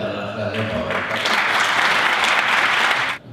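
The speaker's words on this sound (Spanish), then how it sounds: "vamos a darle un aplauso y dar las gracias por haber estado" Applause from the audience at a Club Taurino gathering in Cáceres, honouring the bullfighter Morenito de Cáceres. Dense, steady clapping swells after a brief start, holds loud and continuous for about three seconds, then stops abruptly.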